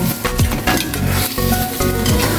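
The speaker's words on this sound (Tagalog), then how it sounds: "Matapos lagyan ay haluin natin." A spoon stirs stingray with onion, chili and vinegar in a hot pan for Bicol-style kinunot, scraping in a steady rhythm over continuous loud sizzling.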